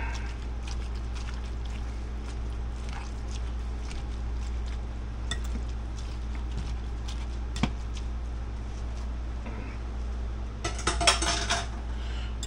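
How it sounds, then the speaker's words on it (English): A utensil stirring store-bought hot dog relish in a bowl gives scattered soft clinks and scrapes, with a louder clatter near the end. "Just gonna mix that up in there real good."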